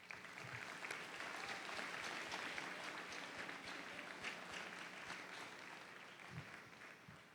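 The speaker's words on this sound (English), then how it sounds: "they really deserve a round of applause from you" An audience applauds at the Vergennes Union High School 2016 graduation ceremony, a dense steady clapping from a large crowd that holds throughout and tapers slightly near the end, with no talk over it.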